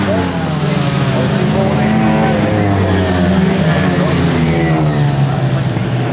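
Race cars lap the track at Bovingdon Raceway, a loud continuous engine roar with several cars droning together, under a race commentator's voice.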